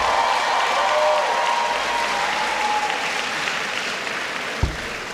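Sustained audience applause fills the hall at a medical sciences pledge ceremony, steady and dense for about five seconds, with a faint murmur of voices and a brief thump near the end.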